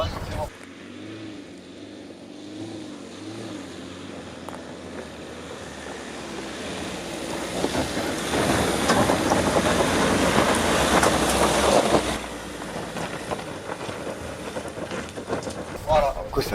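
A Dangel Expert van revs its engine loudly on a test drive, the roar building and swelling steadily over several seconds before easing off, with a person's voice heard alongside.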